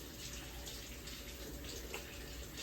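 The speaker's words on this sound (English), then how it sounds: "Wash my hands with warm water for at least 20 seconds." Warm water runs steadily from a tap during handwashing, a faint, even hiss that stays constant with no talk over it.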